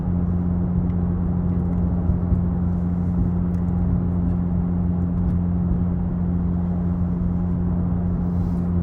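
A 2002 Porsche 911 GT2 996 cruising on the road in daily driving, heard from inside the cabin as a steady low engine drone and road rumble with a strong constant hum, no talking.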